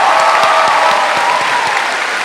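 A large audience applauds loudly and continuously at Bard College's 2014 graduation ceremony, the dense clapping mixed with scattered cheers and filling the hall throughout.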